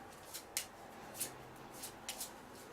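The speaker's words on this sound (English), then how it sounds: "I'm going to draw one, so I have to shuffle" Deck of playing cards being shuffled during a board game, several short soft riffles and snaps spaced irregularly, quiet and close with no talking.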